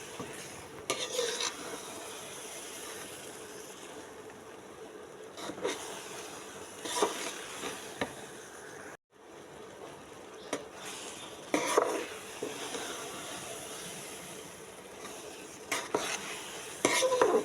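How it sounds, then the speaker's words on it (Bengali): Mango pickle is stirred in a pan with a utensil, giving repeated scraping and clinking strokes at irregular intervals over a faint, constant sizzle. No voices are present. "আর একটু নাড়াচাড়া করে শুকিয়ে ফেলতে হবে।"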